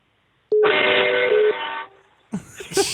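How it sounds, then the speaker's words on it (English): A big truck's air horn sounds one loud, sustained blast lasting over a second, then cuts out. Road noise and brief clatter follow it. "you want me to honk for you?"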